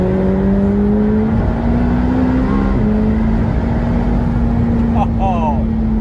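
A powerful car engine revs and accelerates with a rising, sustained roar, loud and close, ending in a few sharp upward revs.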